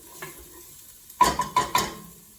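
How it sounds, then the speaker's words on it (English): Onions cook in a pot with a soft sizzle, then a few quick scraping stirs of a utensil against the pot come in a short burst of four strokes near the end. "Stir it up a bit."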